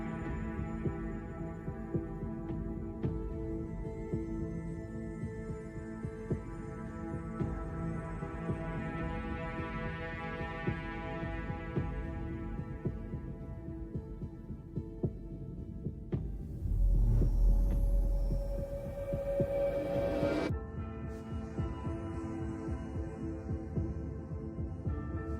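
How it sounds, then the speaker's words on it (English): A low, steady heartbeat throbs in the background of a presentation's soundtrack, pulsing under a sustained hum and synth drone, with a brief louder swell near the middle. "Nice little heartbeat in the background of it as well."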